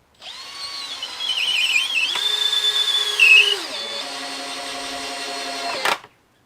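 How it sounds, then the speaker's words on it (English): A cordless power drill fitted with a homemade drill bit bores into timber deck battens for verandah steps, giving a steady whining motor drone with a brief pitch rise mid-way, then a lower hum before stopping abruptly, with no talking. "Now we test the homemade drill bit."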